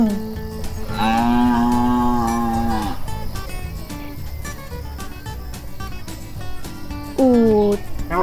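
A gaur, a wild cattle, gives a long, loud lowing moo lasting about two seconds, then a second shorter moo begins near the end, both set over background music.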